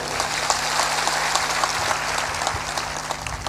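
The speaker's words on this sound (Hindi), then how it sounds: "जोर से ताली बजाया करो।" Audience applause fills a spiritual discourse hall, a steady dense patter of many hands clapping at moderate loudness throughout, with no voices.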